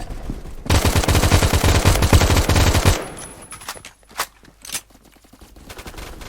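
Rapid automatic gunfire rattles loudly in the game Phantom Forces, a sustained burst lasting a couple of seconds, followed by a few scattered softer shots and footsteps.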